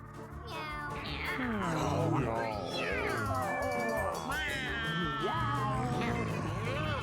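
A cat meow from the meow button in the video game Mewgenics, a run of several loud, close, wavering meows and caterwauls one after another, with a voice talking faintly beneath.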